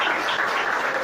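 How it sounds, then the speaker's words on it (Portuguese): A church congregation applauds during a Holy Communion service, a brief, dense burst of clapping at steady loudness with no speech over it. "Só os salvos, pode aplaudir."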